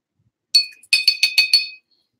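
A paintbrush is rinsed in a glass water jar during watercolor painting, giving a single bright clink and then four quick, ringing taps against the glass, close and clear, with no talking.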